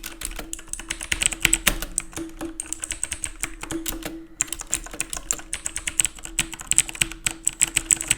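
Rapid, uneven clicking of a mechanical keyboard with blue switches, loud and close, a steady stream of crisp clacks with brief pauses and no voices.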